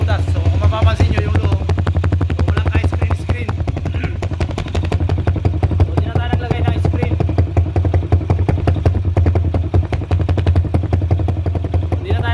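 A motorcycle engine fitted with a 7.2 camgrind, a 30mm PZ30 carburetor, a stock but opened-up pipe and a racing ignition coil idles close by with a steady, rapid ticking clatter, while someone talks over it.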